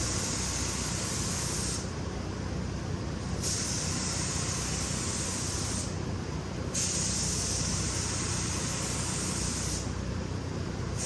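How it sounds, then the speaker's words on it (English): A spray gun paints a car, hissing continuously in long bursts, the high airy spray cutting in and out every few seconds over a constant background hum. "Now Alan's gonna start his spraying adventure"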